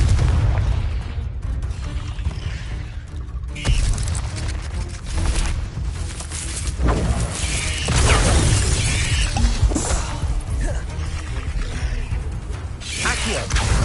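Confringo explosive spell blasts in the game Hogwarts Legacy, a series of loud booming bursts with shattering crackle layered over continuous game sound and music, spread across the clip.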